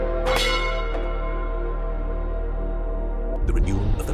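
Notification bell effect: a bright bell strike rings out and decays over a low steady drone, followed by a second sharper chime near the end.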